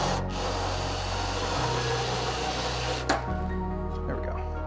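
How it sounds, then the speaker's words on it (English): A router with a chamfer bit whines as it cuts, a steady mid-level tool drone that shifts pitch and then cuts out, followed by quieter shop noise. "With the chamfer bit, you want to go a little bit slow"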